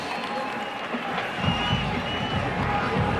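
A stadium crowd at a 2004 college football game between Texas A&M and Utah keeps up a steady roar, then swells midway into louder cheering and clapping that carries on to the end.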